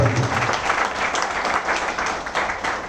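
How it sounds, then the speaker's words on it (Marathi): A crowd at an event bursts into dense, sustained applause for Govind sir, many hands clapping at once in a steady loud roar, with a few voices faintly underneath. "गोविंद सरांसाठी एकदा जबरदस्त टाळ्या झाल्या पाहिजे."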